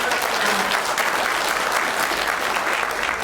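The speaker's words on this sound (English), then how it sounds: "those who have just applauded" Audience applause at a county zoning meeting, a dense burst of clapping from many people in the chamber, loud and continuous throughout.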